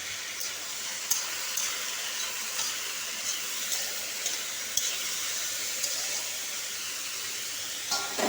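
Sliced kakrol (spiny gourd) frying in a pan with a little panch phoron, giving a steady, even sizzling hiss with a few faint clicks and pops throughout.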